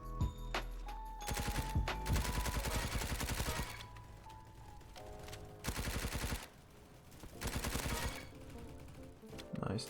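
MP5 submachine gun hipfire in Roblox Bad Business comes as repeated rapid automatic bursts, each a dense loud rattle of a second or two, separated by short quieter gaps.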